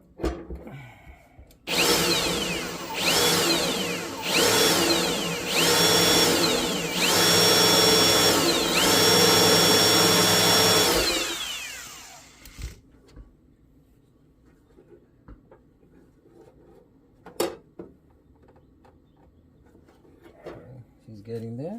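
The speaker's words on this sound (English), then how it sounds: "I'm going to drill it out now. I have 1/8 inch drill bit." Power drill with a 1/8 inch bit boring out a spot weld on a 1967-1969 F-body Firebird or Camaro heater box, a loud whining run of about nine seconds with rising and falling pitch, then quiet shop noise and a brief sharp clank.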